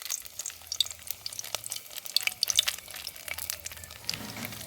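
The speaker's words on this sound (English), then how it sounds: "I'm gonna burn the curry and garlic in a minute." Garlic and curry frying in hot oil in a pot, a crackling, spitting sizzle with scattered pops and a faint low hum underneath, close by and fairly quiet.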